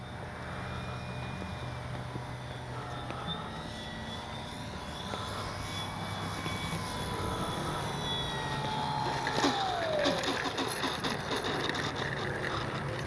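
A small electric FlexInnovations RV8 model airplane drones at a distance on its first flight, its pitch rising and falling as it passes, faint and steady with no voices.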